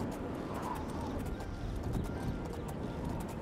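Rapid clip-clop of horse hooves at a steady gallop in the video game Oblivion, continuous and fairly close, with a faint bird call in the background.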